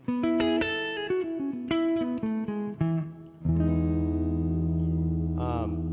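Electric guitar strummed through effects: a quick run of distorted chord stabs, then one big chord ringing out with reverb and shimmer.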